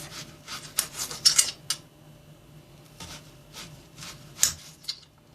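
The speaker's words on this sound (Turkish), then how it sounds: "Soğanlarımızı tekerlek şeklinde doğrayacağız." A knife slices onions into rings on a cutting board, making a series of soft, crisp cuts and scrapes in irregular bursts close by in a quiet kitchen.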